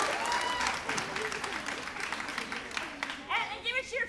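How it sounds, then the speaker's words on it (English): Audience at a Class Act stage musical, Imagine A Dragon, cheers and applauds in a steady, dense wash of clapping and voices that carries through the whole stretch. "So give a cheer if you're related to somebody up here."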